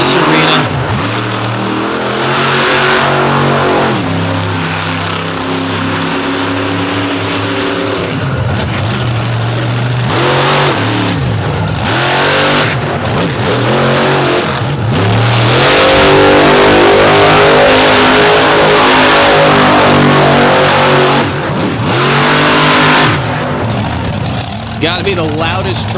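A monster truck's engine roars and revs hard in an arena, loud and sustained with repeated throttle swells and dips across the whole stretch, with a commentator's voice running underneath.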